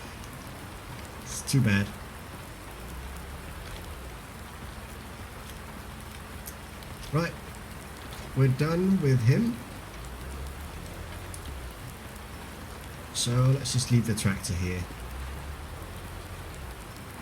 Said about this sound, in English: There's a lot of rain here.